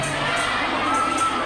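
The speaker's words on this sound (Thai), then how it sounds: "ขอเสียงปรบมือให้น้องทุกคนด้วย" An audience at a mini concert cheering and shouting loudly together, a dense, continuous roar of voices with youthful shouts, close and sustained throughout the brief moment.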